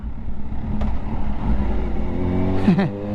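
A car engine revs sharply as a gear shift into first and then second is missed, a steady loud drone rising into a brief higher whine near the end, with no voices over it.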